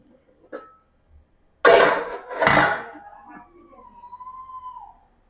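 The metal lid comes off a pot of veg biryani on a stove with two loud clattering clanks in quick succession. Small faint knocks come before them, and a soft wavering tone trails off afterward.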